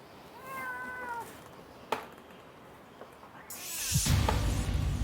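A rescued cat meows in a short rising-falling cry near the start, with faint movement and a sharp knock after it, then a loud burst of rustling and handling noise toward the end.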